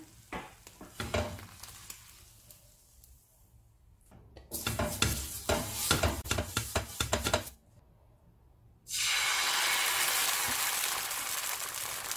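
Egg dosa cooking on a seasoned iron tawa over moderate heat: bursts of scraping and clinking from a spatula, then a steady, loud sizzle of batter hitting the hot pan.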